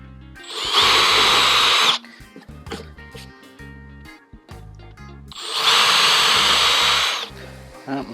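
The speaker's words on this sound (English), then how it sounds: "Let's go ahead and get a couple of these screws in here." A power drill drives screws into a wooden workbench top. Two loud, sustained whirring bursts of about a second each are separated by quieter clunks and handling noise.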